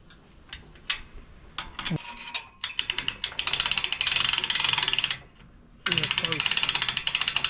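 Repeated rapid clicking of a ratchet wrench tightening a bolt during boat repair work, in several bursts of quick even ticks, close and fairly loud, with short pauses and some voices between.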